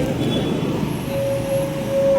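A travel bus arrives on a road beneath a bridge, giving a loud, steady engine rumble with surrounding traffic noise and a sustained tonal whine, without speech.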